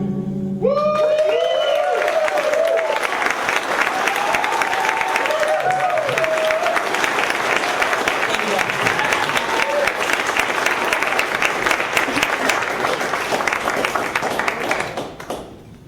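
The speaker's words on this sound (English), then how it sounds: "can we get one more round of applause for that?" A crowd at a Utah rally for Bernie Sanders bursts into loud, sustained applause with scattered cheers and whoops, clapping steadily for several seconds before tapering off at the end.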